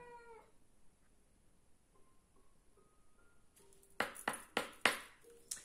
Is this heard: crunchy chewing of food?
no